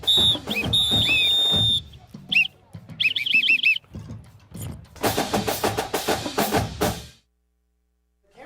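A referee's whistle sounds at a high school football game, DCHS versus Chattooga, as a few sharp, shrill blasts with some trilled tones, fairly close and mixed with other game-day noise.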